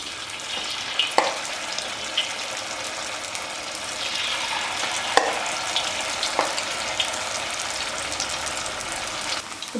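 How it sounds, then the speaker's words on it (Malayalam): Cauliflower pieces for dragon gobi fry in hot oil over a low flame with a continuous loud sizzle, broken by occasional sharp clinks and stirring clatter. "നമുക്കിതിലേക്ക് കോളിഫ്ലവർ ഓരോന്നായിട്ട് ഇട്ട് കൊടുക്കാം. ഫ്ലെയിം കുറച്ച് വെച്ചിട്ട് കോളിഫ്ലവർ ഇട്ട് കൊടുക്കണം."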